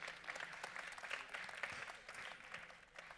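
An audience in a public meeting on healthcare access applauds a local organ-transplant support collective, a soft, fairly distant wash of steady clapping that lasts throughout.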